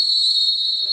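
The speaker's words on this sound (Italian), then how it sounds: "Ed è il fischio del direttore di gara" A referee's whistle blows one steady, sharp, continuous blast at half-time of an indoor futsal match, loud and alone for about a second.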